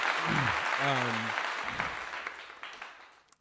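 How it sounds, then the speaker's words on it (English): Applause from a live audience at a talk event, a wash of clapping that starts loud and fades over a few seconds, with a voice speaking briefly early on. "A round of applause for Sunny, man."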